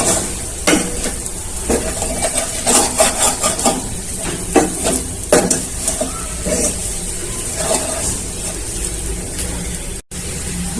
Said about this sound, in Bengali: চালটা ভাজা হয়ে গেছে, দিয়ে দিচ্ছি জল।